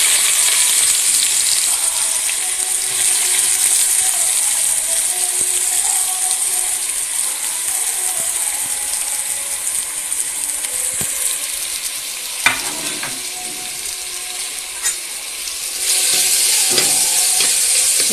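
Chopped onions fry in hot oil for a Kerala-style chicken teeyal, giving a steady, loud, dense sizzle that holds throughout with no voices. A few faint scrapes of stirring come through near the middle and toward the end.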